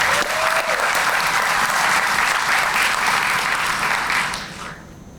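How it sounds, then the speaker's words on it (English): Applause from the audience at a police district community relations awards ceremony as Special Commendation Award recipients are honored, steady and full for about four seconds before tapering off. "Please give them a collective round of applause."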